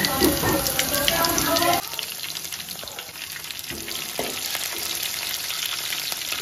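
Garlic frying in a pan for a seasonal sevla vegetable dish gives a loud crackling sizzle that drops abruptly and continues softer with occasional stirring knocks, close to the pan.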